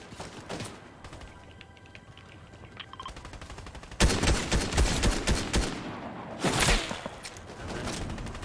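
SMG fire in Fortnite: rapid bursts of automatic gunfire, fairly quiet at first and then louder, sustained strings of close shots with brief gaps between bursts, without talk.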